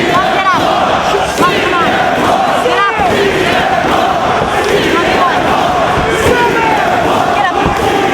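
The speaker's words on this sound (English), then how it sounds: "The crowd trying to rally CM Punk starting to feed off that energy." A wrestling arena crowd roars continuously and loudly, rallying behind CM Punk during a Ring of Honor Third Anniversary Celebration bout, with shouts and chants rising over the dense din and occasional thuds from the ring.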